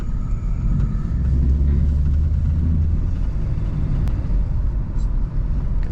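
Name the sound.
1979 Ford Thunderbird driving and turning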